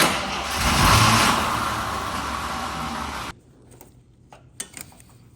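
An old Jeep CJ8 Scrambler engine, sitting unused for ten years in a barn, cranks and tries to catch with a loud, rough rumble for about three seconds, then cuts off abruptly, leaving faint clicks and small knocks.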